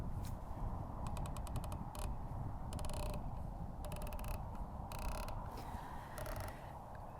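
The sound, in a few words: clicking riflescope turrets on Arken Optics SH4 Gen 2 scope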